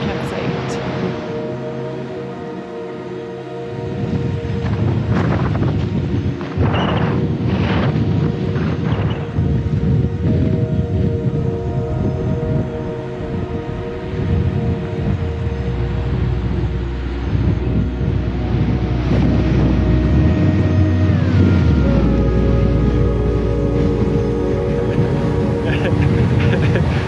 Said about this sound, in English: So windy, holy shit.